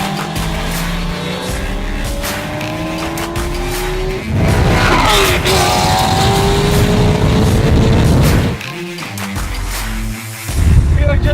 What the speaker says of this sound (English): We are just driving about 200 kilometers per hour, and with such a group, there's 200 plus driving legally on a public road